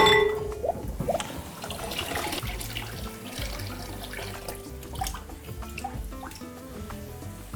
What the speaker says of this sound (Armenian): լվանում ենք բրինձը